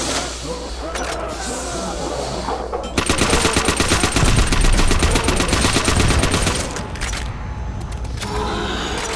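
Rapid automatic fire from an STG assault rifle in Nazi Zombies, a loud close stream of shots lasting a few seconds amid other gunfire, with players talking throughout.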